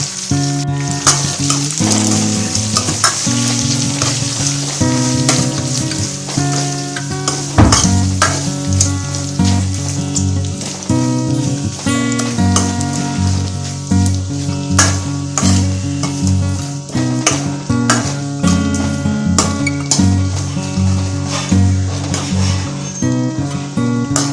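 Grated coconut fries in a pan with curry leaves as part of a home-style pumpkin curry, stirred steadily so it crackles and sizzles loudly and continuously, with scraping and clinks from the spoon throughout and no talk.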